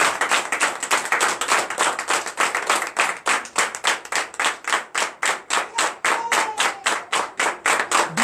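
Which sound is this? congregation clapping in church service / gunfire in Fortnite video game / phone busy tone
congregation clapping in church service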